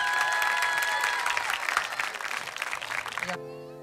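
Audience applause at a Romani talent show final, steady dense clapping filling the room for about three seconds before cutting abruptly to a musical tone.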